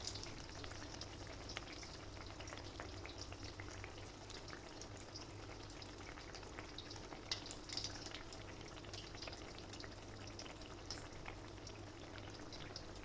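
Kue cucur, a palm sugar cake, fries in hot oil with a steady soft sizzle and bubbling, faint and continuous, with occasional small crackles over a low hum.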